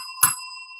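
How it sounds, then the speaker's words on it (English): A single bicycle bell ding rings out close and clear, its bright metallic tone hanging and slowly fading for most of a second with nothing else around it. "Oh, I forgot you got the bell."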